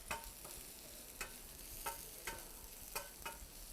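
Diced vegetables being stir-fried in a pan for a spicy shrimp stir-fry, with a soft steady sizzle broken by periodic scraping strokes of a spatula, fairly faint and with no voices.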